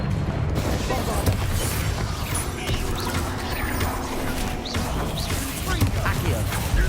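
The Bombarda blasting spell in Hogwarts Legacy goes off amid dense combat noise: booming impacts and crashing, creaking debris layered over a continuous loud roar.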